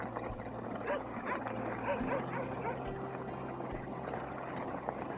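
A dog barks a few short, distant yips and woofs over steady outdoor background noise and a low engine-like hum, early in the morning.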